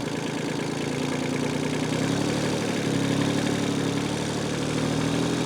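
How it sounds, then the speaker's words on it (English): A Kubota L245H tractor engine runs steadily in fifth gear, a loud, continuous mid-to-low drone with slight shifts in pitch as it keeps going. "I'm going to shift into 5th gear while I'm stopped. I'm going to get the tractor going"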